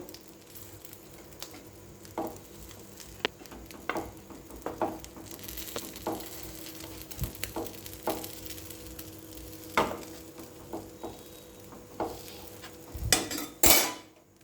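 A fried egg for egg toast is cut into four pieces in a frying pan, with scattered metallic taps and scrapes of a utensil against the pan over a faint sizzle, ending in a louder clatter.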